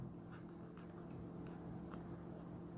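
Lemon M6 fountain pen with a #6 steel EF nib writing on cheap no-name paper, giving a very faint, steady scratchy hiss with a few soft ticks of pen strokes, close and quiet against a low background hum.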